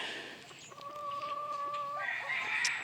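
White Crested Black chickens vocalizing nearby: a drawn-out tonal call held for over a second, followed by higher clucking and squawks over faint background noise.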